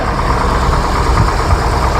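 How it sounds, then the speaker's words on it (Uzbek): A GAZelle Business van's diesel engine idles with a steady, close, rumbling chug that runs evenly throughout. "Mashina dizelda ishlab turibdimi aka?"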